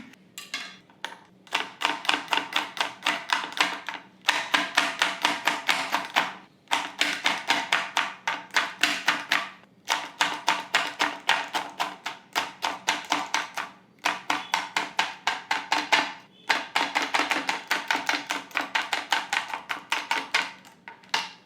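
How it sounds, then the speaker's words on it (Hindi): Eggplant is finely chopped with a knife on a board in fast, even bursts of crisp taps, each run lasting a few seconds before a short pause and starting again. The sound is close and clear, with no talking. "एकदम बारीक बारीक आपको कटिंग करनी है इसकी"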